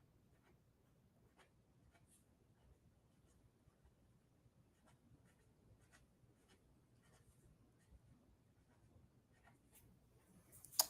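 A pencil sketching on paper at a drawing desk, faint scratchy strokes in short repeated bursts, quiet and close, ending with a sharper tap.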